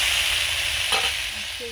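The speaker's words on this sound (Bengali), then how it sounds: "পটলগুলো হলুদ এবং লবণ মাখিয়ে ভেজে নিচ্ছি" Pointed gourds rubbed with turmeric and salt frying in hot oil, a brief, steady, close sizzle with no talking.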